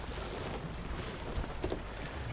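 A sailing ship in the Sea of Thieves game moves across the sea with its main sail lowered, a steady, close rush of water and wind that stays constant throughout.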